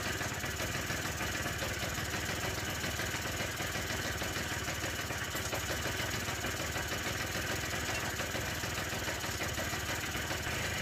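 A motorcycle engine idles steadily with its electric choke disconnected, a continuous even drone with no change in revs, close and unbroken for the whole stretch.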